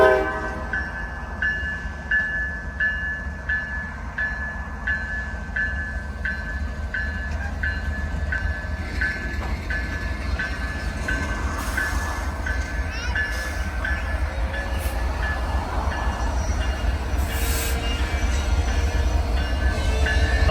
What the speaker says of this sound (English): we have a train stopped here at the Crossing Bucks